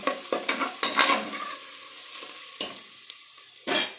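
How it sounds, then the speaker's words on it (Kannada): Fenugreek leaves and other pulao ingredients fry in a pan, with repeated scraping stirs and a steady sizzle in the first half. A lighter hiss continues after that, broken by two more sharp stirring clatters, all close and without talk. "ಅದಕ್ಕೆ ಫ್ರೈ ಆಗಿದೆ ಆಲ್ಮೋಸ್ಟ್ ಫ್ರೈ ಆಗಿದೆ"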